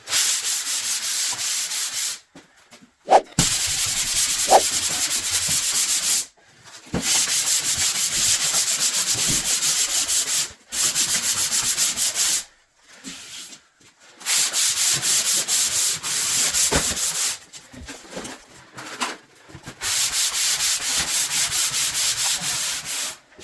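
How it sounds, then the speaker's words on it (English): Hand sanding of drywall, long rhythmic scraping strokes in steady bursts of several seconds separated by short pauses, close and harsh with no one talking. "When you're doing the sanding, you're not trying to get it completely flat."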